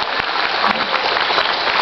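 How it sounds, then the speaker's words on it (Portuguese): Crowd applauding the city of Registro at a municipal band and fanfare performance, a loud, dense wash of clapping that carries on unbroken with no voices over it. "Aplauso, gente, a cidade de Registro."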